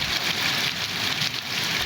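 Heavy torrential rain in Pakistani news footage, a dense and steady hiss of downpour that stays loud and even throughout, with no talk over it.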